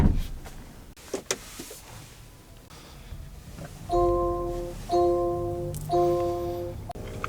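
Power windows in a 2024 Land Rover Defender 130 cabin whir in three short motor runs, each about a second long, after some faint clicks and handling noises inside the quiet interior.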